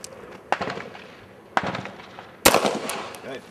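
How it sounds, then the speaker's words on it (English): Three sharp handgun shots from a Beretta 92 FS 9mm pistol at an indoor training range, spaced about a second apart, each a loud crack with a short reverberant tail and no talk between them. "Shooting a Beretta 92 FS."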